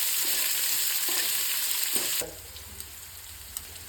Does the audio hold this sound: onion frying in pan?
yes